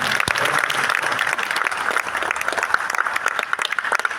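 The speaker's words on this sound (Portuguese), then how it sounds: "Vamos dar uma salva de palmas para essa esperança." An audience applauds at a Catholic Comunidade Shalom gathering, with dense, steady clapping that fills the room from start to finish without a break.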